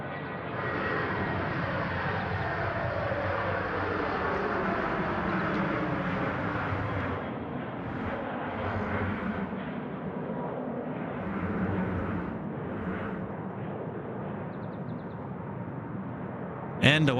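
A Jetstar Airbus A320 jet roars down runway 34 right at Sydney Airport on its takeoff roll, a loud, sustained engine rumble from a fair distance, with a voice talking over it.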